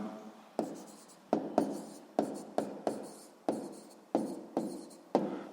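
Pen strokes on paper while writing out a sixth-grade math solution for the area of a semicircle, a series of quiet, close scratchy strokes in short bursts with brief pauses, no voice.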